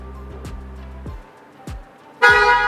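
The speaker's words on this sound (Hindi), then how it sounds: "आपके पास अगर चाबी है और गाड़ी ऑन है और आप दूर जाएं तो ये गाड़ी 2 दफ़ा हॉर्न करती है।" A 2023 BMW i5 M Sport xDrive40 electric sedan sounds its horn after the keyed car is walked away from while still on, a loud, bright honk bursting in near the end over quieter background clicks and thumps.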